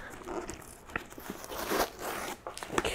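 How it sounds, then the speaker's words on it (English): Packing tape is peeled off a cardboard box with crackling, ripping bursts in irregular pulls, close and fairly quiet, with no one talking. "I am taking off all this tape"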